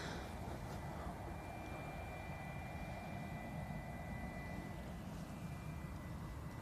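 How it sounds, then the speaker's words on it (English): A Loganair Embraer E145 jet arrives from Aberdeen, producing a steady, distant engine roar with a faint high whine, continuous and moderately quiet. "It's Logan Embraer E145 from Aberdeen"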